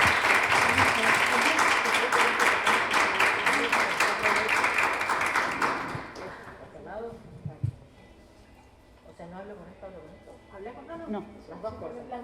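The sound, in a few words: audience applause welcoming a guest speaker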